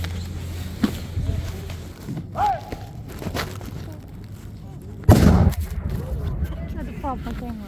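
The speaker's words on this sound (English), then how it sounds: "This is the volunteer artillery group that shoots the National Park Service's Light Infantry 3-pounder, which is the formal name for this gun." A volunteer artillery crew fires a National Park Service Light Infantry 3-pounder cannon outdoors at Cowpens Battlefield, with one loud, sharp blast midway. People talk and move around before and after the shot.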